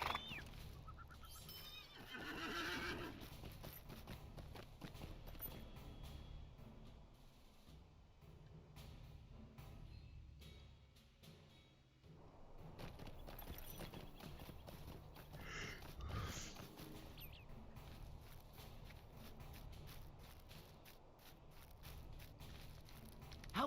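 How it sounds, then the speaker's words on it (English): Hooves clip-clop steadily over a busy background ambience in the video game The Lord of the Rings Online, with a horse whinnying at moments; fairly quiet and continuous. "Oops, I ran right past the horse."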